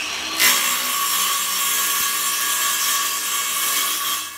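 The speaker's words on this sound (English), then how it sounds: "cut a board the right size using" A circular saw cuts a plywood board to size, a steady, loud whining rasp of blade through wood that starts abruptly and runs without a break for several seconds, with no talk.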